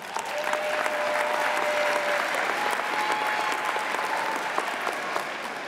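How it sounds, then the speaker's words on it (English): A graduation ceremony audience at Phoenix High School applauds steadily for the full stretch, a dense wash of many hands clapping at a constant, full level, with no voices standing out. "let's give your parents, family members, educators, and others who've helped you the last 18 years a round of applause"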